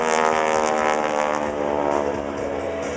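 A propeller airplane flies overhead with a wingwalker on the wing during an air show, a steady loud engine drone with dense harmonic buzz that holds constant throughout.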